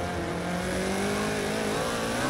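A Subaru BRZ in the Forza Motorsport video game, racing through a dark tunnel and downshifting to third, its engine note sliding and rising steadily, loud and close with no talk.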